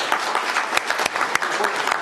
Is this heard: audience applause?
yes